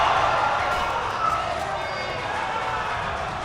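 Crowd at an RGL LAN esports event cheering a big play, a steady broad roar of many voices filling the whole stretch, loud and continuous under a caster's talk.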